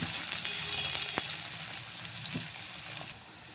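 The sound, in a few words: onions frying and being stirred in oil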